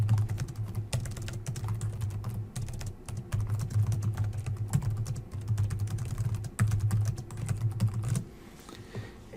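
Keys clatter on a computer keyboard in bursts of quick, close taps with short pauses between runs, then stop near the end, leaving a quiet room.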